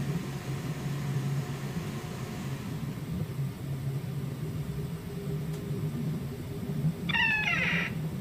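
Female cat meowing in a horror house video game, two or three short rising meows near the end, fairly clear over a steady low in-game drone and background hum.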